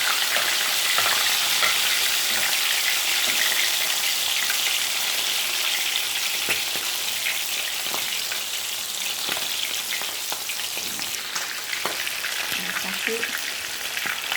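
Chicken frying in hot oil on the stove while rice is being prepared, giving a dense, steady sizzle and crackle. It is close and loud, with scattered pops throughout and no talking.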